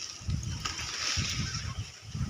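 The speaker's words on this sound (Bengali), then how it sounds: "না জানা ঠিকানায় এই জলগুলো সব চলে যাচ্ছে" Water runs through farm fields and crop land outdoors, with soft splashing and sloshing that comes in uneven low surges across the whole short stretch, fairly faint and close by.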